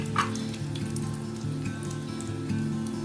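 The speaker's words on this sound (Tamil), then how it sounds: "எண்ணெய் சூடானதும் கோலா உருண்டையை சேர்த்துடலாம்." Kola urundai balls deep-frying in hot oil: a steady, close crackling sizzle with fine popping bubbles, alone under a low background hum.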